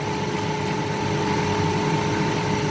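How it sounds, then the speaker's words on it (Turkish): Motor-driven carpet washing machine easing into a soft brake after its spin, a continuous steady mechanical hum and rumble, moderately loud and unbroken. "Şimdi yumuşak bir fren yapacak."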